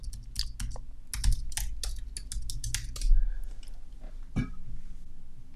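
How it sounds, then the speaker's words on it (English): Someone types a password on a computer keyboard, producing quick clusters of close, clicky keystrokes with short pauses and a heavier key press near the end, over a low background hum. "I'm now going to type the password that I created"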